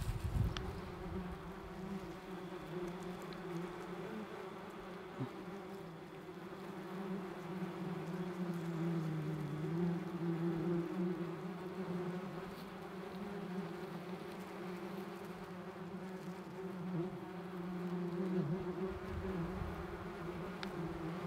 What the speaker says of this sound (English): Within a few minutes, we already caught a bunch of yellow jackets.